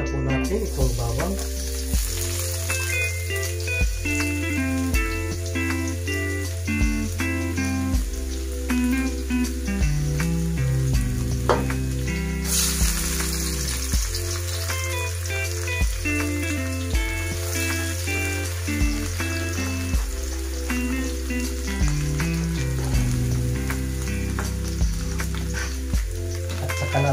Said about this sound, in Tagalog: Tayo po ay magigisa ng ricado. Ayan, unahin na po natin itong bawang.